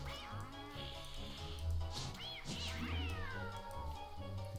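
A cat meows several times in the video game Don't Starve, close and clear over a steady low game music bed, with rising and falling mewing calls.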